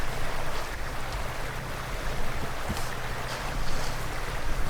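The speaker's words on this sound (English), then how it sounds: "this will be the last time going through the creek" A lifted Toyota Tacoma crawling through a creek, its engine a low steady rumble beneath broad rushing water and wind noise, sustained and fairly loud throughout.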